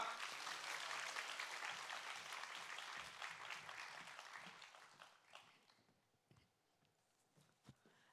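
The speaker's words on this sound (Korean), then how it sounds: "우리 목사님 나오실 때 우리 할렐루야 하면서 크게 박수로 한번 환영하겠습니다." A church congregation applauds as the pastor comes out, a fairly faint wash of clapping that thins and fades into a few scattered claps.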